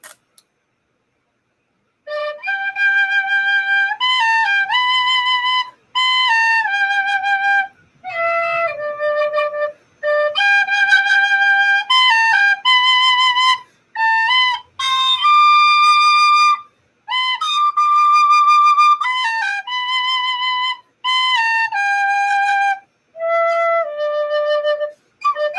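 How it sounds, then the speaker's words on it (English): Tin whistle melody, clear and close, made of bright sustained notes and quick runs grouped in phrases with short pauses between them. It plays alone with no talking over it. "tin whistle."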